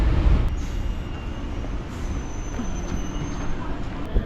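Chennai MRTS elevated suburban train running between St. Thomas Mount and Chennai Beach, a steady close rumble of wheels and carriage with faint high squeal, continuous throughout with no talk.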